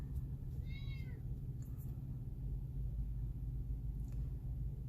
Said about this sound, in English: And the cat's gonna sing us her greenie song.